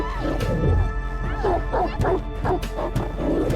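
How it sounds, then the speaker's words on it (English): A pack of wild dogs barks and yelps in a dramatic film scene, several overlapping barks and whimpers repeating in a rough rhythm over a steady low hum. "This moment, a pack of wild dogs appeared."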